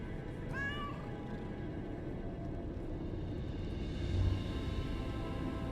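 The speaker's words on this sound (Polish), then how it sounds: "Ten kotek nas zdecydowanie polubił." A cat meows a few short times early on in Lies of P, rising and falling cries over a steady low game ambience rumble that fills the rest of the clip.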